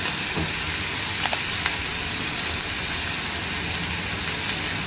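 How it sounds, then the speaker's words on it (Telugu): Fenugreek (methi) leaves fry in a pan for a yogurt chutney, giving a steady, even sizzle with a few faint clicks near the start and no voices. "ఈ ఆకు వేసాను కదా, 2 నిమిషాల పాటు వేయించుకోవాలి."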